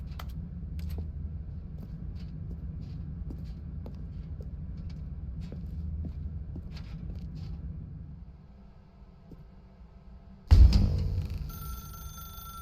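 A telephone rings in the video game The Stanley Parable, bursting in loudly near the end after a stretch of quiet room ambience with scattered soft clicks.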